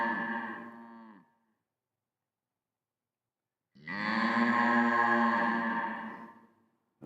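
A simulated cow moo shaped by an impulse response: two long, low, resonant bellows separated by silence, the second fuller and louder, with no talk.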